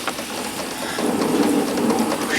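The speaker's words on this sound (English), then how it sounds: "The rain is returning" Heavy rain pouring in a steady, dense hiss that swells louder midway through, with no voices.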